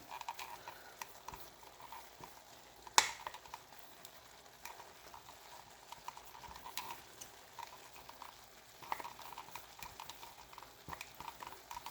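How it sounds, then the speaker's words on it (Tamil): Onions and okra cook gently over a low flame in a pan, giving a faint, steady sizzle with a few soft clicks and no speech. "கொஞ்ச நேரம் சிம்மில் இதெல்லாம் இருந்து வேகட்டும்."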